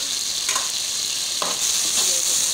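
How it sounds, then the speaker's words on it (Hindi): Washed moong dal is roasted with browned onions in a hot pan, a steady close sizzle broken by a few soft stirring scrapes. "अब तकरीबन इसको 2 मिनट हम भून लेंगे"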